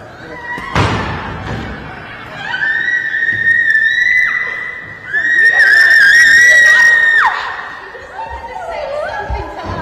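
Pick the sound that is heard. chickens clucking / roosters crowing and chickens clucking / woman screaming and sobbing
woman screaming and sobbing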